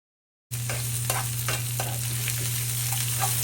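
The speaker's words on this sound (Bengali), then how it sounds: "শুকনো মরিচ দশ পনেরো সেকেন্ড ভেজে নেওয়ার পর আমি পেঁয়াজ রসুন অ্যাড করলাম এখানে" Onion and garlic fry with dried chillies in oil for radish greens, a close, steady sizzle with several spatula scrapes and stirs over a constant low hum, starting after a moment of silence, with no talking.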